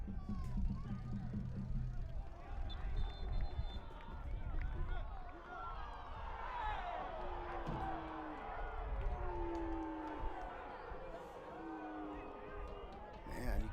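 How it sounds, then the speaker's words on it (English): Spectators at a men's college soccer national championship match between MNU and Milligan react with a sustained, restless murmur of discontent, with broad crowd noise and scattered shouts throughout and a commentator talking over it. "you can hear the crowd not happy with Benjamin Meyer"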